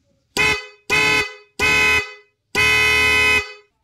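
A G Star dual snail horn wired through a relay blares four loud, close blasts: three short honks followed by one longer sustained toot, with no talking.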